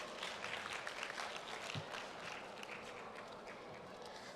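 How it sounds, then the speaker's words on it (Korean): An audience at a vocational high school youth startup idea competition applauds steadily and fairly softly before a team's presentation, with one brief knock partway through. "여러분 큰 박수 부탁드립니다."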